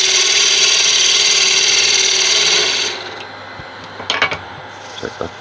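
A wood lathe cutting a slight inward chamfer on a wooden camera lens clock, a loud steady whirring cut that stops abruptly, followed by a few sharp clicks and taps as the machine winds down.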